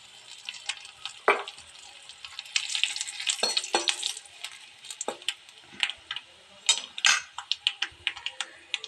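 Curry leaves hit hot oil for a peanut masala, a close crackle of sharp pops and spits, sparse at first and then quick and irregular.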